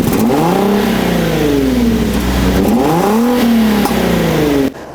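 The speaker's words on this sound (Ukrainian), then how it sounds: "Дві величезні вихлопні, які мають такий досить приємний звук." Infiniti EX25 engine revving through twin large exhausts, rising and falling in two swells of pitch over a steady idle, loud and close before cutting off abruptly near the end.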